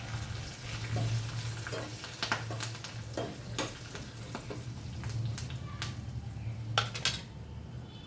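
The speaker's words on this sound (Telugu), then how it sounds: "ఇదిగోండి ఇట్లా సౌండ్ అయితే రావాలి మన పోపేసుకున్నప్పుడు" Spices for a Telugu tempering (tadka) with turmeric and asafoetida sizzle steadily in hot oil, a close crackling fry with scattered sharp pops and light utensil clicks, no voices.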